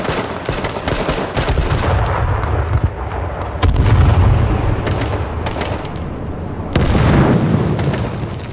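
Grenade blasts in the online shooter H1Z1: a continuous rumble of heavy booms with fresh loud detonations near four and near seven seconds, dense and close, no voices over the noise.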